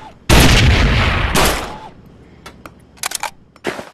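Gunshots in a VR zombie shooting game: two loud, close blasts, each with a decaying tail, followed by scattered sharp clicks and shorter bursts of game effects.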